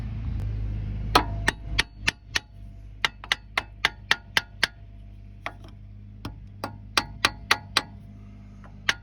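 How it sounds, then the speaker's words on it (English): A hammer taps on a metal brake caliper over and over, sharp ringing knocks in uneven clusters, close by and clear against a low background hum. "Let's just give it a little love tap with a hammer."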